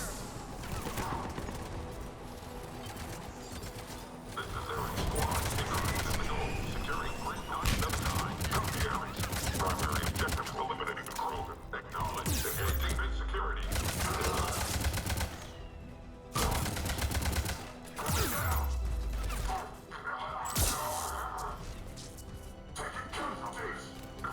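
Rapid gunfire bursts in the Mass Effect Legendary Edition shooter, repeated volleys over a noisy battle mix, with game voices talking at times.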